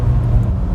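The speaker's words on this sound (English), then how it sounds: "I wish BMW kept this engine around for a lot longer because listen to that sound." A BMW M5 E60 with its V10 engine and SMG gearbox accelerates hard, a brief, loud, deep rumble close to the microphone.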